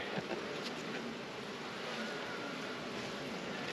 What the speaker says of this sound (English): There are a lot of bees on top of the queen excluder.